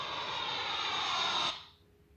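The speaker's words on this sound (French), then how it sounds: "Un avion est une grosse machine qui s'envole dans le ciel." An airplane's engine gives a loud, steady broadband roar that cuts off abruptly partway through, leaving a faint tail.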